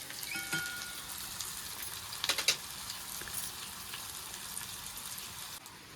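Oil sizzling steadily in a pan as crab curry is fried until golden at home in Konkan, a continuous close hiss with a few brief louder crackles, no talk.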